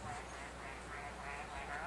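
A man mimics a teal duck call with his voice, a run of close, fairly quiet nasal quacking sounds repeated over about two seconds against low background noise.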